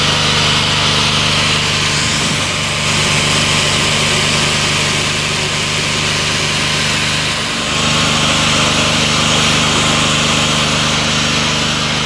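A power tool unbolts an old, worn-out bracket, giving a steady, loud mechanical drone with an engine-like whine that runs unbroken for the whole stretch. No one speaks.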